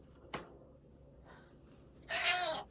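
A pet cat indoors in a messy apartment gives a clear, close meow near the end, preceded by a sharp tap and faint rustling in an otherwise quiet room.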